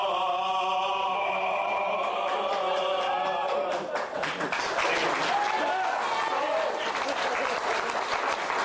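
Crowd at a live music performance breaks into loud cheering and applause after singing ends, clapping and whoops swelling and continuing to the end.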